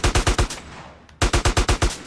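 Rapid bursts of pistol fire from a 9mm in GTA San Andreas Definitive Edition during a riot: four loud shots, a short pause, then another quick string of about six close, sharp reports.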